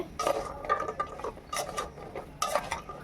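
Fried khurma being stirred in sugar syrup in a pan makes soft, close scraping and clinking strokes of a spoon against metal, coming in three short bursts.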